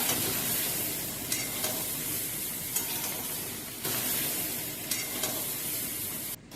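Fish fat lightly frying in a pan gives a dense, continuous sizzle with a few brief bursts and scrapes, steady and close.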